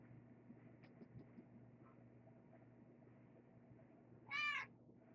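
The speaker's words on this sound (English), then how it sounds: "Crazy cat." A cat gives a single short meow near the end, loud and close over a steady low room hum, with faint clicks scattered earlier.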